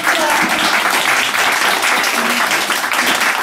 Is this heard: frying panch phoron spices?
no